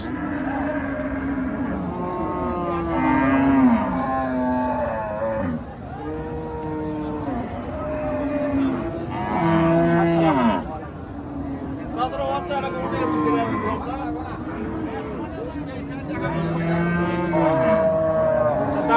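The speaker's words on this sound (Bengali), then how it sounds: "আপনারা শুধু একবার দেখেন, অনেক সুন্দর একটি গরু" Friesian cattle at a busy cattle market give repeated loud, drawn-out moos one after another, close by, while people talk over them nearly the whole time.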